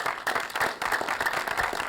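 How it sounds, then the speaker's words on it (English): An audience gives a round of applause at a theater event, a steady dense patter of many hands clapping close by. "Let's give them a round of applause."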